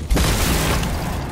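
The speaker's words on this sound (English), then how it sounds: "More grenades. Stop it." A loud grenade explosion in Fortnite, a sudden heavy boom followed by a sustained rumbling blast that slowly fades.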